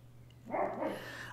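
A dog outside barks in a short burst, moderately close, over a constant low electrical hum with no talking.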